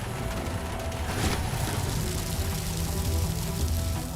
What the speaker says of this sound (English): They pour the concrete into molds, exactly where it is wanted.